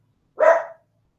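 A small female dog barks once at home, a single short, sharp, close bark standing alone against silence.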